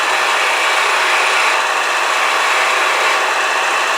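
A gouge cuts a bottle stopper on a wood lathe, giving a constant loud hissing scrape with the motor's hum beneath, steady and close throughout.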